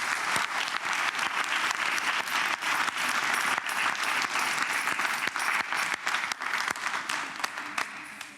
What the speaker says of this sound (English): perhaps we could just give our Year 7s a round of applause to welcome them to the school